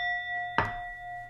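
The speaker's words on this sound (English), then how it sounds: "I'll ring this bell." A single sharp strike on a bell rings out once, followed by a sustained tonal ring that lingers and fades over a quiet room.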